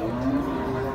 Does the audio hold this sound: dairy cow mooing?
yes